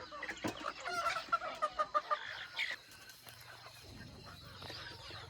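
Fighting cocks on a farm: a short run of rhythmic clucks and fowl calls, fairly close but quiet, fading into softer scratching and background noise.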